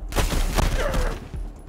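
Gunfire in the Wasteland 3 video game, a short loud volley of overlapping shots and impacts, close and dense before tailing off.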